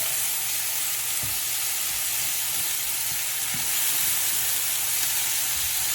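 Chilies fry in a pan for Indonesian nasi goreng, giving a steady, close hissing sizzle with faint stirring knocks now and then and no talking.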